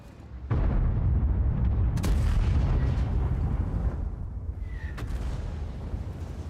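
Artillery shell fire in World of Tanks: a sudden heavy blast that rolls into a loud, sustained rumble, with sharp cracks on top, heard alone and close.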